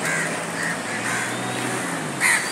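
A crow caws in short repeated calls, several harsh cries spaced through the clip, with the last one louder and closer over a steady background hum.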